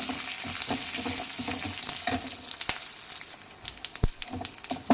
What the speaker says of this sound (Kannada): ಈಗ ಒಂದು ಸ್ಪೂನ್ ಉದ್ದಿನ ಬೇಳೆ ಹಾಕ್ಕೊಳ್ಳಿ ಅದನ್ನು ಆಗೋವರೆಗೂ ಫ್ರೈ ಮಾಡಿ